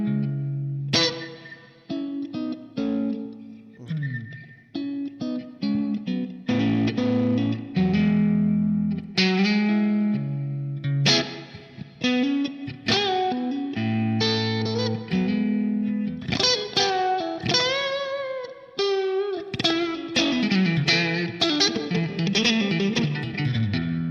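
Electric guitar played through a Line 6 Pod HD500 modeling a blackface Fender Deluxe Reverb on its normal channel, with added reverb. It plays loud, continuous melodic lines and chords with no talking.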